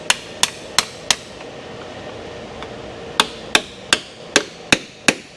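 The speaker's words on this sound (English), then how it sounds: "I'm gonna get behind it and separate the cover from the aluminum case." Sharp metallic hammer strikes on a sharpened pry bar chisel driven in to separate a glued transmission cover from its aluminum case; about a dozen crisp, close taps, four quick ones, a pause, then seven more in a steady rhythm.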